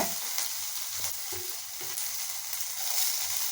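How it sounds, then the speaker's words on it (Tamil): Chopped onion, green chilies and dried red chili sizzle in a hot pan for a cauliflower carrot poriyal, a steady close frying hiss with occasional soft stirring scrapes. "நல்ல வெங்காயம்லாம் நல்லா வதங்கட்டுங்க"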